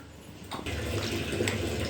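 Water poured into a pan of cashew paste while cooking a paneer curry in yogurt gravy, a splashing rush that starts abruptly after a short pause and continues loud and close.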